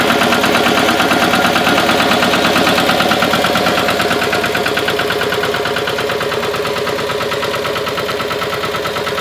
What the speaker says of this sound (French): mais j'ai le rotavateur qui tourne